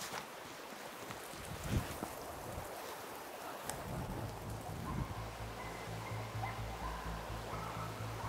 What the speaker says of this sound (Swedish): Okej, vi släpper de hundarna.